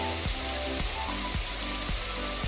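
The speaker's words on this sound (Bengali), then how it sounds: "পেঁয়াজটাকে লাল লাল করে ভেজে নিয়েছি এখন দিয়ে দিচ্ছি আদা রসুন বাটা টমেটো কুচি লঙ্কা বাটা" Onion browned in a pan, then ginger-garlic paste, chopped tomato and chili paste added, sizzling and frying steadily up close, with a low repeating thump underneath, no voices.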